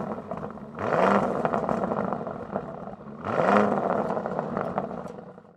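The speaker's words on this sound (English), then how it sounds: "Take a listen how this V8 sounds." A 2019 Lamborghini Urus V8 revving twice, each a loud rising roar that swells and trails off, the second blip following about two and a half seconds after the first, with no talk over it.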